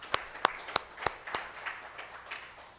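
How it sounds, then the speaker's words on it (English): Sparse clapping at a Pacific Island legislatures meeting: about five sharp claps in a row, then a soft, thin patter of applause fading out, distant and quiet. "So let's give them all a round of applause."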